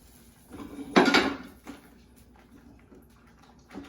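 Plates set down on a kitchen surface while plating scallops with cauliflower puree: one clear clattering knock of crockery, followed by a few soft, faint taps and knocks.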